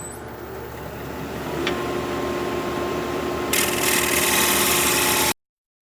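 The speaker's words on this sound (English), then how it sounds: "I'm going to go back to my 5/8 bowl gouge." A 5/8 bowl gouge cuts a four-legged square wooden bowl spinning on a lathe: a steady motor hum with rough scraping that grows louder and brighter partway through, then stops abruptly.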